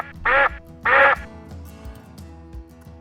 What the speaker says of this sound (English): spy ducks.